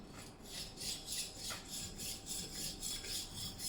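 A knife is drawn back and forth across a sharpening stone in a quiet, rhythmic rasping, about eight even strokes in a row, each a soft gritty scrape close by.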